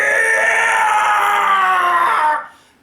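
Wilhelm scream sound effect, a loud, sustained drawn-out male cry with a slightly falling pitch, close and alone, cutting off abruptly after about two and a half seconds.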